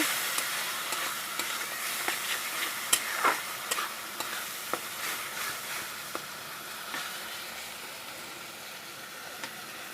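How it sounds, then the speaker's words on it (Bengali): Spices frying with a paste of chilli, ginger and onion, a steady crackling sizzle with scattered spatula scrapes and clicks throughout, close and moderately loud, with a stronger stir near the middle and no talking. "পেস্টের সাথে এখন আমি মশলাটাকে আবার কষিয়ে নেব।"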